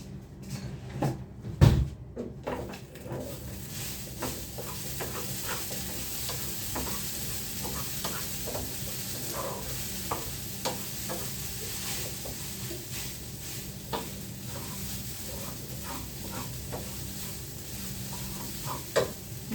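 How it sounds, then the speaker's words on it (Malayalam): Fenugreek seeds and chopped shallots fry in a pan, a steady soft sizzle under repeated clicks and scrapes of stirring, with one sharp clatter near the start. "അപ്പം ഇനി ഇത് നമുക്ക് വറുത്തെടുക്കാം"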